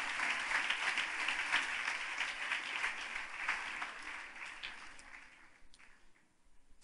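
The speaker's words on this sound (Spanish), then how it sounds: "Denle un aplauso fuerte a Dios" A church congregation in Cali, Colombia breaks into sustained applause, many hands clapping steadily before the sound thins and fades out toward the end, heard at a moderate distance.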